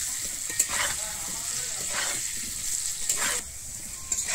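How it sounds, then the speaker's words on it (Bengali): Cut potatoes fry in hot oil for Bengali egg curry, a loud continuous sizzling hiss close up, punctuated by several bursts of stirring and spatula scrapes at irregular intervals. "আমি এই তেলের মধ্যে এবারে আমি কেটে রাখা আলুগুলোকে ভেজে নিচ্ছি।"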